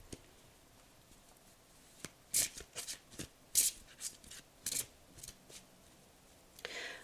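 Tarot cards handled and shuffled up close in a few scattered bursts of quick papery flicks and taps over a quiet room, with no voices.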